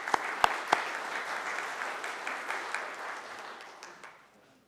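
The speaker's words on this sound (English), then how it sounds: "Give them a round of applause." Audience applause thanks event sponsors at a fall 2022 welcome gathering, steady broadband clapping with a few sharp individual claps early on, fading out toward the end.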